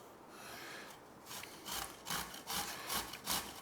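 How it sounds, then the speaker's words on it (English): Half a cucumber rubbed by hand against a grater for a Greek dip, faint at first, then a run of quick rasping strokes growing louder and more regular. "Now we need to grate this"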